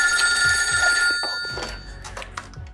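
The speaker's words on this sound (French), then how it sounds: "Ok, faut que j'appelle Tristan." A telephone rings while a call is being placed, with a bright repeating electronic ring tone heard fairly close, and some soft bumps and handling noises underneath.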